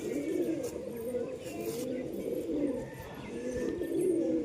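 A pigeon being fed cold medicine coos repeatedly in low, throaty rolling phrases, close and fairly loud, with a few faint background noises around it.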